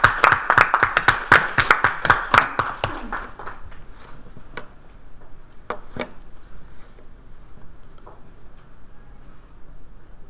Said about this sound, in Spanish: nos merecemos un pequeño aplauso